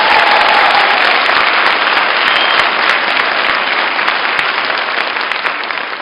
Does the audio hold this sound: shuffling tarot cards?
no